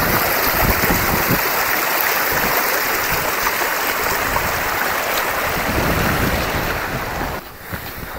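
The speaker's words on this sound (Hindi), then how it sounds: "ये देखो मेन फॉल्स, यही जो है वो फॉल है." Dainthlen Falls in Cherapunji pours in a loud, continuous broadband roar of falling water mixed with wind buffeting the microphone, steady throughout before dipping briefly near the end.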